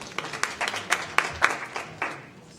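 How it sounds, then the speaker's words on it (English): A few people in the audience at a city planning and development committee meeting clap sparsely, with about a dozen separate, uneven claps that are fairly close and fade out after two seconds. "I hate the clapping."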